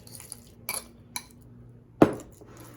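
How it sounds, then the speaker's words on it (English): Bananas are mashed and stirred in a bowl for waffle batter, heard as a few sparse, light clinks of a utensil against the bowl, ending in one sharper knock, with quiet pauses between. "We're gonna mash it down so it's nice and goopy. Stir it up a little as you go."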